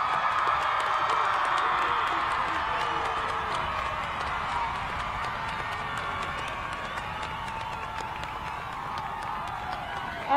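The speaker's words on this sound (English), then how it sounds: "How about another round of applause for our class of 2021?" Large crowd at a high school commencement ceremony applauding the graduating class of 2021, sustained dense clapping with cheers and whoops filling a big space for the whole stretch.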